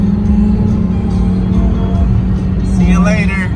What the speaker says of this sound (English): This 350Z is revving at me.